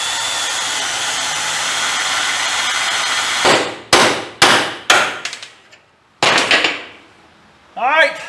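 After a long steady whir, sharp hammer blows ring out one by one, loud and close, as drilled rivets are knocked free from a Mustang II suspension, with short silences between strikes and a final clattering burst.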